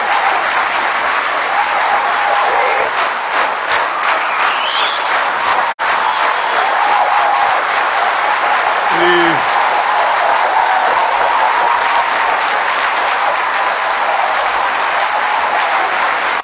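An audience applauds steadily at a live prayer gathering, a dense, even wash of clapping that runs unbroken for the whole stretch with a brief dropout midway and a faint voice or tone surfacing near the middle.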